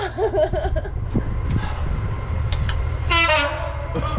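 A Polish PKP train runs past close behind a winter cycling camp at minus ten, producing a loud steady rail rumble throughout, with a brief horn blast near the end.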